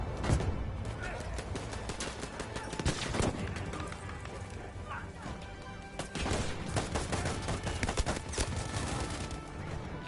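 Battlefield 5 multiplayer gunfire: dense, continuous volleys of rifle and automatic fire with sharp cracks throughout, loud and busy, mixed with the clatter of battle.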